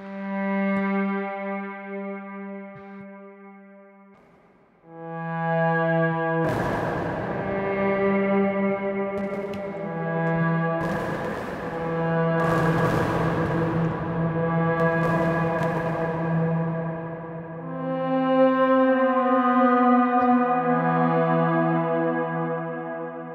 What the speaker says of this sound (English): I'm going to add more reverb. And let's crank the decay.